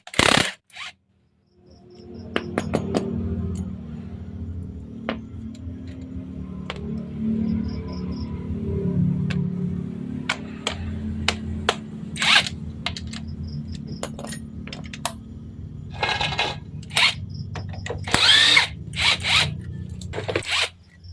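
Nut on the axle of a Jupiter Z motorcycle being loosened with a 19 wrench, close metallic clinks, scrapes and rattles in irregular bursts over a low steady engine-like hum, with no talk.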